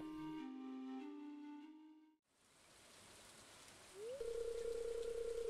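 Rain falling in the Stardew Valley video game, a soft steady hiss that takes over once a flute melody stops. A single sustained synthetic tone later rises and holds above the rain.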